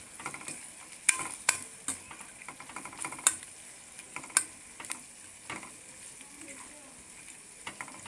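Capsicum, pea and tomato masala curry stirred in a pan: soft frying hiss under a series of sharp spoon scrapes and clinks against the metal, irregular and close, with no voice.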